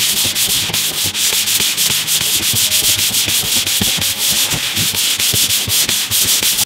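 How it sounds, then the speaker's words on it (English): A pole sander with sandpaper dragged lightly over a drywall patch, producing rapid rhythmic rasping strokes, loud and close, steady for several seconds with no talking. "I'm just dragging the pole across it. I'm not pushing hard. I'm just letting the sandpaper do the work."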